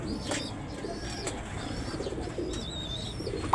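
Racing pigeons coo softly and repeatedly at a derby in Santiago, Isabela, with a few higher bird chirps overhead against a steady outdoor background; no one speaks.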